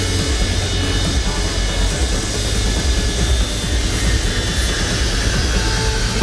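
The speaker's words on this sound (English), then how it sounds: "Shutting down engines 1, 2, and 3." Boeing 727 jet engines in Microsoft Flight Simulator, a loud steady broadband roar that stays constant with no clear spool-down, heard alone without talk.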